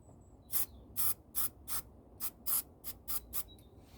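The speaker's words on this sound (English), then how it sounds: "I'm going to take the lid off and just spray some into the lid." Short bursts from a spray paint can sprayed into its lid, about ten quick hissing puffs in an uneven rhythm, close up with nothing else around.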